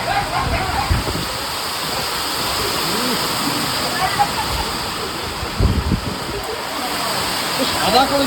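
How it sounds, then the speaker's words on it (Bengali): Heavy rain pours steadily and close by on an outing during a trip to Puri, a dense, unbroken wash of noise with occasional louder splashes, while voices talk faintly underneath. "বৃষ্টি নেমেছে।"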